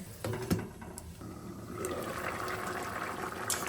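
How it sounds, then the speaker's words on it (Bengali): Water is poured into a pot of crab and potato curry on the stove, a steady close pouring and gurgling wash with a few soft clinks of utensils, no talking. "এবার জল দিয়ে সেদ্ধ করে নেব।"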